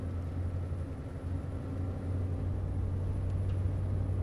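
A Scania S series truck engine in Euro Truck Simulator 2, fitted with a Crutch and Barnes sound pack, drones at a steady low idle-like rumble throughout, fairly loud and unchanging with no talk.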